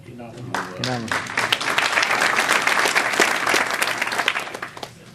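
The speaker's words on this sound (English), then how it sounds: "Hold your applause, please, until we get through the names" A voice speaks briefly, then a crowd at an interfaith event breaks into steady applause that fills the room and continues to the end.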